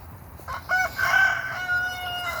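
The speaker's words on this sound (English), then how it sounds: "There's a crazy chicken." A rooster on a small farm lets out a close, loud crow that trails off, with no one talking over it.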